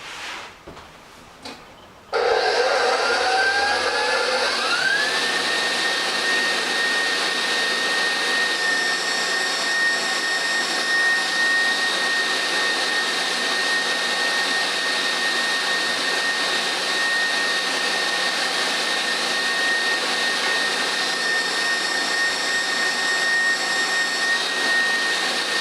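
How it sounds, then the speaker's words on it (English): A pasta machine fitted with a fine tagliarini cutter switches on after a brief quiet start, then runs with a steady, loud motorized whir and a high sustained whine for the rest of the clip, with no talk. "I'm going to put on our fine tagliarini cutter."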